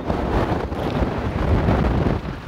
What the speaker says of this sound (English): in Geldingadalur again on a very windy day in November